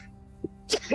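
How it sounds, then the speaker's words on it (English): A single person's sneeze bursts out sharply after a brief quick inhale, close and loud against a quiet room. "Hold on, I have to sneeze."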